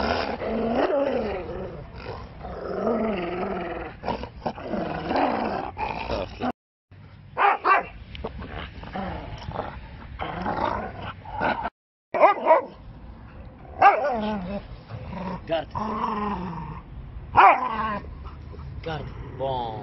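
Husky growling, whimpering and barking during aggression training, close and loud in repeated bursts, with someone speaking between them.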